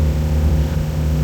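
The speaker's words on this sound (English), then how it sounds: "So sorry for the engine noise" A boat's engine drones steadily while motoring in fog off San Francisco toward Half Moon Bay, a continuous loud low rumble with a constant hum and no pauses.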